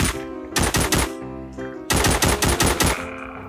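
Rapid automatic gunfire from a weapon in the zombie shooter game The Walking Zombie rattles in two loud, close bursts separated by a brief gap, with a short trailing shot at the end.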